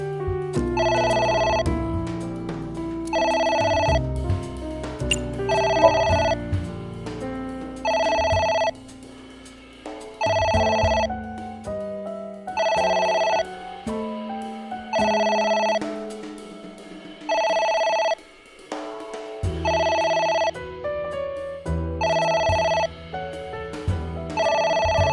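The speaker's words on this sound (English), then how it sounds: "It's ringing again." A telephone rings in a PS4 game: repeated electronic ring bursts in a regular on-off rhythm over a low musical backing, clear and prominent for the whole stretch, briefly pausing before resuming.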